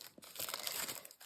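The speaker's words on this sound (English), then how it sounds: "the noise of the tissue paper I thought was a little loud" Tissue paper wrapped around a stationery purchase crinkles and rustles as it is unwrapped, a soft, close crackling that swells and fades over about a second, with no voices.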